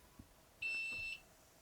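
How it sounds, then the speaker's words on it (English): A single sustained electronic beep, a steady high-pitched tone lasting about half a second, rings out clearly in an otherwise quiet room. "What was that beep?"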